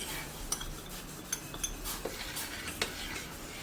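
Spoon scraping and clinking in a pot as flour is stirred into boiling water for homemade dog food, with several sharp metallic taps over a steady low rumble, close and moderately loud.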